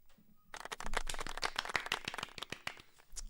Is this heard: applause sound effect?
yes